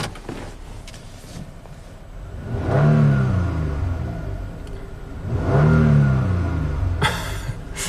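A 2014 Toyota Sienna AWD engine revs twice in gear while its U660F transmission fails to engage, each rise and fall of engine tone swelling up close over a steady idle hum.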